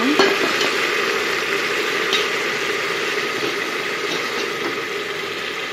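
Fried onions hiss and sizzle in a hot pan after a splash of water, a steady crackling sizzle with a few scraping stirs, close and continuous with no talking.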